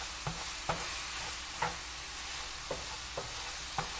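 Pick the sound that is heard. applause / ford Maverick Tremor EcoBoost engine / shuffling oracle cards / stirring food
stirring food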